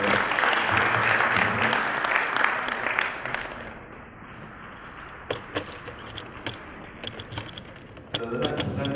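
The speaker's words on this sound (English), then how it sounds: "So, round of applause for Richard." An audience at a conference on disaster and emergency situations applauds. The clapping is loud and dense at first, fades to a few scattered claps, then returns briefly near the end, with no talk over it.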